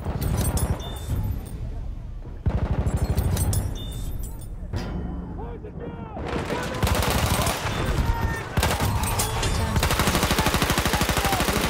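Rapid gunfire rattles almost without pause as enemies are shot in the first-world-war shooter Battlefield 1, with loud automatic bursts and some single shots layered over game noise while a voice talks over the action.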